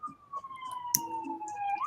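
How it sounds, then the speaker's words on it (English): An ambulance siren wails past at a moderate distance, its tone sweeping steadily downward over a couple of seconds, then rising again at the end. "There's an ambulance."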